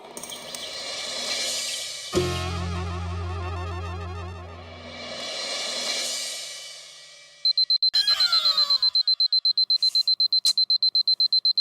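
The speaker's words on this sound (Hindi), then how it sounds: "अलार्म बंद कर।" Alarm clock rings in a home at night, starting after a stretch of soft background music and then beeping in rapid, insistent pulses that keep repeating loudly.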